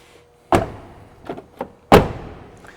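Driver's door of a Mercedes-Benz Sprinter camper van (Grech RV Terreno-ion) being shut: a solid, loud thud, a couple of lighter clicks and knocks, then a second heavy closing thump, all nearby with no talking.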